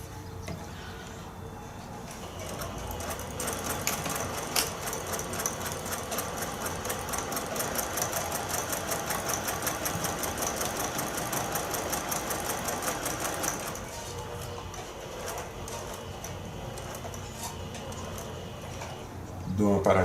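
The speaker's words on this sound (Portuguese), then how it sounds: "Vamos costurar sobre a linha que traçamos" A sewing machine stitches steadily along a traced line on a quilt block, a fast even mechanical rattle for about eleven seconds that then stops, with someone talking over it.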